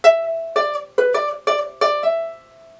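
Ukulele picking the riff of a funk song, six or so crisp plucked notes with a hammer-on, close and clear, alone before ringing out.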